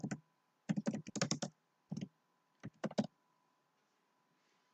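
Bursts of keystrokes on a computer keyboard while writing Angular code, several quick clusters of crisp clicks separated by pauses, close and clear with no talking.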